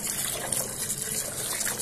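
Water sloshes and gushes over green olives being washed, a close, continuous wet splashing with small trickles throughout, no voices.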